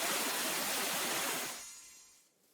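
Water ripple thrust skill effect from a Demon Slayer mod in the game PEAK: a loud rushing, splashing surge of water that fades away over about two seconds, heard alone without talk.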